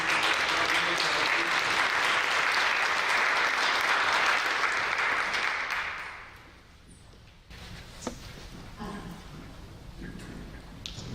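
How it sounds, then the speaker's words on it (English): Audience applause for a girls' middle school robotics team at a STEM education forum, loud and steady for about six seconds before fading to a quiet room with faint rustling and small knocks. "So a little round of applause to these ladies."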